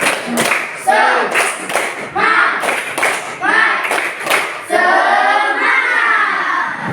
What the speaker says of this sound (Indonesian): Supaya lebih semangat, tepuk semangat.